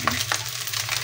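Leftover rice sizzles and fries in a pan as it is stirred and mixed, a steady close crackling hiss with faint scraping strokes of the spatula and no voices.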